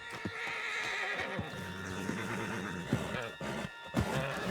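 A horse whinnies while its hooves clip-clop in a steady, irregular rhythm nearby, the sounds fairly quiet and close.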